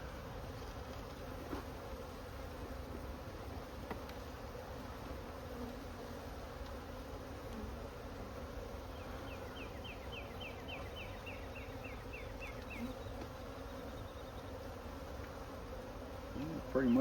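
A honey bee swarm buzzes steadily throughout, a dense droning hum close to the listener with a few brief higher insect chirps partway through.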